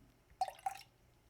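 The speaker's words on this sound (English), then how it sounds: "We're just going to add this cabbage juice to the filtered water and see what color it is." Red cabbage juice is poured into filtered water, giving two short, quiet liquid splashes or drips in quick succession against near silence.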